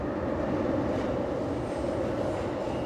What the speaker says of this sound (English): That is an Amtrak train above my head.